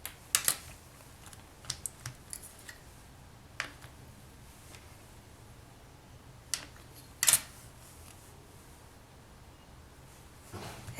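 A blade cuts excess off a polymer clay cane. Sparse, crisp taps and clicks sound up close, spread out over a quiet stretch, with a firmer double cut near the end and no talking.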